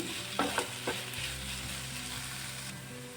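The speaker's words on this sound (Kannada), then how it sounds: "ಶುಂಠಿ ಬೆಳ್ಳುಳ್ಳಿ ಪೇಸ್ಟ್ ಹಾಕ್ಕೊಂಡು ಸ್ವಲ್ಪ ಫ್ರೈ ಮಾಡ್ಕೋಬೇಕು" Onions frying with ginger-garlic paste and green chili in a hot pan give a steady close sizzle, with a few brief scraping stirs early on and no voices.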